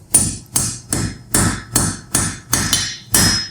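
Sharp hammer blows ring out in an even rhythm, about eight strikes in three and a half seconds, as metal is forged into the shaft of a small Mjolnir pendant, close and loud with no talk.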